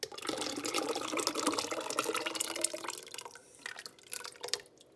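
Sauce being poured from a container into a cooking pot for a Sunday gravy: a wet, splashing, dripping stream that runs steadily for several seconds, then thins into scattered drips and trickles, close by.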